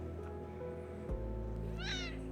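A cat gives a single clear, rising meow near the end, close by and distinct over a steady background hum.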